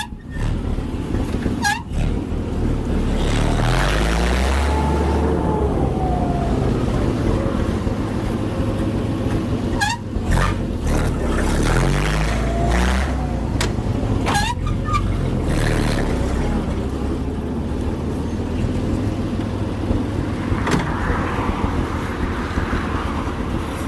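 A vintage American LaFrance fire truck drives along with its engine rumbling loudly and steadily, deep and throaty, with shifts in pitch as it changes gear.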